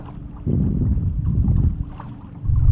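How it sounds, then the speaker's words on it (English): Wind buffets a small boat out on a lake, a Old Town Sportsman 106 kayak with a Minn Kota motor, as a steady low rumble and microphone gusts that swell and ease over a couple of seconds, with no talking. "just constantly fighting the wind here"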